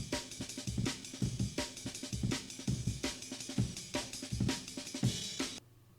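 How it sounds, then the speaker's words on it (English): An edited Amen break drum loop plays alone, crisp kicks, snares and ride cymbal hits in a busy, syncopated funk rhythm repeating for several bars before cutting off abruptly. "let's try it with an Amen break"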